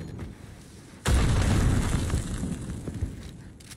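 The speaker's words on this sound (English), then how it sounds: "Grenaded him." Grenade explosion in a competitive video game match: a sudden loud boom about a second in, followed by a sustained rumbling roar that slowly fades, with no talk.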